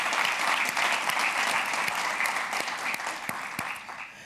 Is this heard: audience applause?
yes